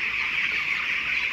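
Dense flock of broiler chickens in a ventilated poultry shed on a farm, steady continuous clucking and chatter from many birds, close and fairly loud with no pauses.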